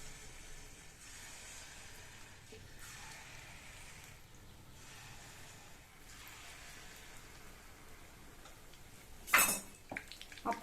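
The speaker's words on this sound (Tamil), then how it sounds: "ஒவ்வொரு கரண்டியாக எடுத்து எண்ணெயில் ஊற்றிடலாம்." Spoonfuls of wheat-flour appam batter fry in hot oil in a kadai, giving a soft, steady sizzling hiss throughout, fairly faint, with a few brief clinks near the end.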